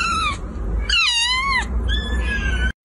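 An adult cat meows loudly and close up: three drawn-out, wavering meows with short gaps between them, alone with no talk.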